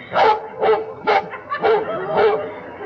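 Dog barking in a 1960s radio comedy: a series of six sharp, fairly loud barks at an even rhythm, close and alone with no talk over them.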